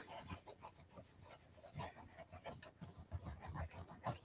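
A pet dog woofs upstairs in a house, muffled and faint, with a few soft, scattered barks over low room noise.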